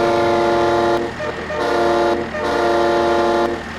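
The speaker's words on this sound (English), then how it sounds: "do we sound the horn?" Three long, loud blasts of a truck horn on a ranch, each held about a second, with short gaps between them and vehicle rumble underneath, close by.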